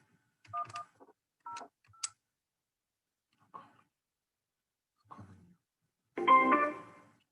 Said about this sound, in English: The number you dialed is not a working number.